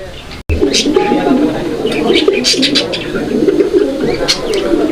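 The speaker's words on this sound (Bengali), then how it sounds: "আপনারা ডাকটা দেখছেন মাশাল্লাহ অনেক চমৎকার ডাকের একটা কবুতর" A fancy domestic pigeon cooing at a pigeon market or loft, soft repeated coos among other birds chirping nearby, with someone talking steadily over them.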